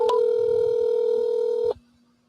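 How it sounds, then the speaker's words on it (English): A phone places an outgoing call, giving a loud steady calling tone for nearly two seconds that cuts off abruptly into near silence, close and clear with no talking. "we're calling you right now on my phone"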